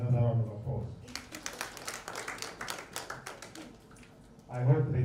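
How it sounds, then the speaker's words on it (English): Audience clapping at a Uganda democracy academy fellowship gathering, a scattered, moderately paced round of hands that swells and thins out, framed by a voice talking before and after. "I think it deserves another round of applause."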